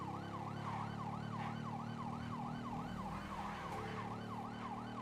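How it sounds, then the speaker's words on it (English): A police motorcycle siren in GTA 5 Online wails in a fast, rapid yelp pattern, steady and continuous over a low engine drone. "It's got a very unique police siren."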